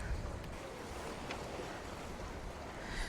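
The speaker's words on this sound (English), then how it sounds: "you can probably hear the wind behind me" Wind rushing steadily over the microphone at the seaside in Santa Ponsa, Mallorca, a constant broadband roar with faint wave wash underneath, alone with no talking.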